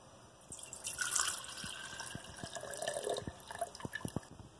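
Hot agar mixture poured into a one-quart jar, a soft trickling splash of liquid with a few sharp drips and clinks near the end, close and fairly quiet, no talking.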